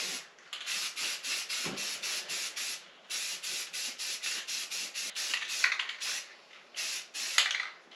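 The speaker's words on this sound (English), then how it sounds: "Some Rust-Oleum flat black rattle can paint." Rust-Oleum flat black spray paint hisses from a rattle can in a run of short bursts and longer sprays, close up, with brief pauses and no voices.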